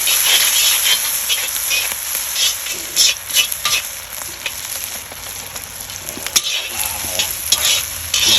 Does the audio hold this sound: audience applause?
no